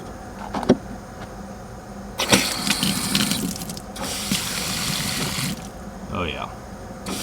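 Water pouring steadily from an Aquor freeze-proof hose spigot outdoors, a continuous rushing splash broken by brief clunks and handling noises, with someone speaking intermittently over it.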